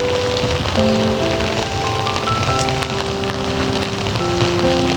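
Steady rain pours down in Malanday, Marikina City, in a dense, continuous hiss, with faint tonal hums running underneath.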